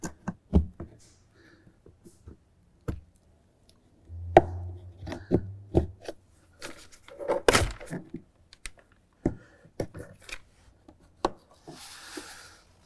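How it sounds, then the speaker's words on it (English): Plastic push clips popped loose with a prying tool on the panel of a John Deere XUV 835R Gator, a series of close, sharp knocks and clicks with a brief scraping rub in between. "You can either have a tool like I have here to get these push clips to come up"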